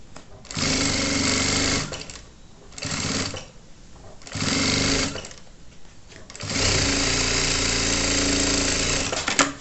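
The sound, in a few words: sewing machine stitching a children's backpack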